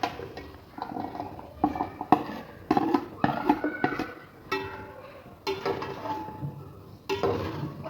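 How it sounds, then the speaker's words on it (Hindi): A spoon scrapes and clatters against a pan while arbi (taro) is stirred into masala and oil, irregular close knocks and scraping strokes with faint sizzle beneath. "अच्छी तरह से इसको मिक्स करना है।"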